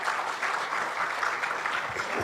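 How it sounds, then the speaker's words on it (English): Attendees at a CII Maharashtra State annual business meeting applaud for about two seconds, a steady crowd of clapping hands at moderate distance with no talking over it. "give him a round of applause."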